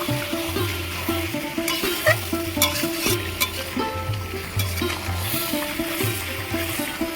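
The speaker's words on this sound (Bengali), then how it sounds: "ভালো করে নাড়াচাড়া করে নেব" Chicken curry stirred in a pan, a rhythmic scrape of the spoon repeating roughly every second over a steady sizzle, close and fairly loud, without talking.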